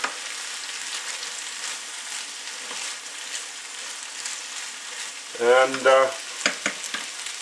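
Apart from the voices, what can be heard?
stir fry sizzling while being stirred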